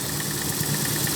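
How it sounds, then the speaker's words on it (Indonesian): A 1200 cc Toyota Corolla engine idles with a steady, even rumble and faint mechanical vibration, close and continuous with no voices over it. "Ini mesin Corolla yang menggunakan mesin 1200 cc."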